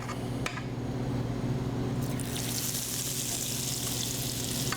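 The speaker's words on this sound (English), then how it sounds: "We're going to keep adding the cauliflower to the skillet until it's all nice and fried up." Battered cauliflower fries in a skillet of oil, giving a steady, close hiss that grows brighter and fuller partway through as more pieces go in, with a faint clink near the start.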